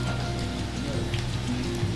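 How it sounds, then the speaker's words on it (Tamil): Heavy rain pours steadily on surfaces outdoors during an evening of home cooking, a dense continuous roar with no pauses and no speech. "மழை நல்லா சூன்னு பெய்யுது"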